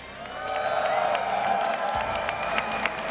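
Esports crowd cheering and applauding in a large arena during a Halo Championship Series winner's bracket final on championship Sunday, a steady, loud roar of whoops and clapping sustained throughout with scattered shouts.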